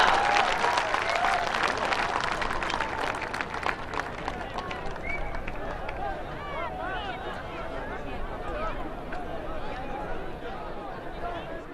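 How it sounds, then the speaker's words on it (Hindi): A large crowd at a rally in Assam applauds to welcome Prime Minister Modi, loud dense clapping and cheering that gradually thins into a murmuring hubbub with scattered claps and voices. "तालियों की गड़गड़ाहट से स्वागत करें माननीय प्रधानमंत्री जी का।"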